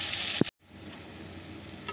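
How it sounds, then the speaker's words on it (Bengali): Potatoes frying in a pan give a soft, steady sizzle with a clatter at the start, then a brief dropout before the frying hiss returns, faint and close, with no voices. "তো চলো আলুটাকে ভেজে নিই।"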